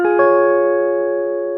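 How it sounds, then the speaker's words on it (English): A clean electric guitar on the neck pickup rings out a single chord that is struck twice in quick succession, then left to sustain and fade slowly. "So it sounds like this, that first guitar which we usually ignore."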